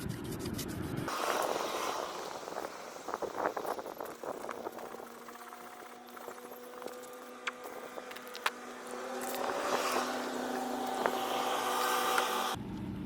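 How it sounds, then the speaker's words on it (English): Slow, steady wet sanding of car paint with 2000 grit sandpaper during scratch repair: soft, repeated scraping strokes close by, fairly quiet, with no talking. "Take 2000 grit and wet sand it slowly."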